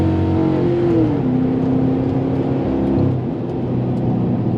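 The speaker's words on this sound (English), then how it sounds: "Hit the rev limiter on the shift." A Ford Crown Victoria at a dragstrip holds a loud, steady high rev near the limiter, its engine tone stepping down partway through and droning on alone.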